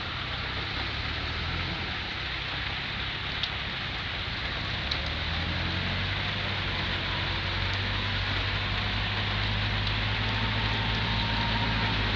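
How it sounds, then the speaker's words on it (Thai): Steady rain pours over a field being ploughed, a dense continuous hiss with a low engine-like rumble underneath, constant and fairly loud throughout with no talking. "ฝน"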